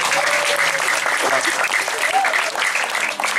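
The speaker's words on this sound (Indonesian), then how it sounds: "di belakang itu ada tepuk tangan" A crowd claps steadily and densely throughout at a Balinese Calonarang temple performance at Pura Giri Kusuma, Blahkiuh, loud and sustained, with faint voices mixed underneath.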